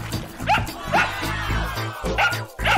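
A dog barks in a quick series of short yips and barks over a low background hum.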